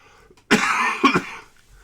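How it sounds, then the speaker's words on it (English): A person coughs twice in quick succession, a sharp burst followed by a second hack about half a second later, close and fairly loud with no talking. "Excuse me, I have to cough."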